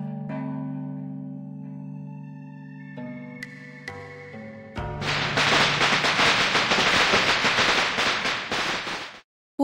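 A dense burst of rapid crackling pops from firecrackers going off erupts loudly midway, following calm sustained music, and rattles on for several seconds before cutting out.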